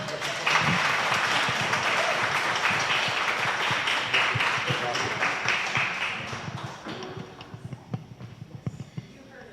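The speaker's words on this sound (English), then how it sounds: "One more round of applause." Audience applause at a Republican back-to-school town hall in South Lyon, following a speech: dense, sustained clapping from a sizable crowd that gradually thins out into scattered individual claps toward the end.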